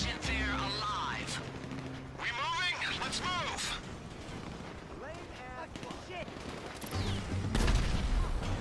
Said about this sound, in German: Pass auf, Leute, ich schieße gerade